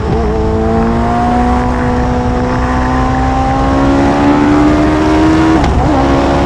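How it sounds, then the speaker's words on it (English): Hayabusa-engined race car accelerating hard past on a circuit chicane, a loud rising high-revving howl building steadily, with a sharp backfire crack near the end before the engine note drops away. "Oh, them backfires just to enhance the experience even more."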